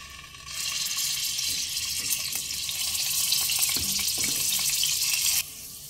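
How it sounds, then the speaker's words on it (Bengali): Potatoes, cut, boiled with salt, turmeric and chilli, sizzle and crackle in hot oil with a steady broadband hiss, a few soft stirring knocks midway, ending abruptly near the close. "আলু গোল্ডেন করে ভেজে নিয়েছি।"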